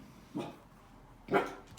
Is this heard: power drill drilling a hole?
no